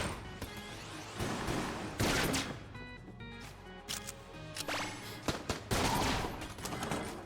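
Repeated firing of the Big Iron gun in a modded Enter the Gungeon session comes as loud clusters of sharp shots separated by brief lulls, with game effects in between.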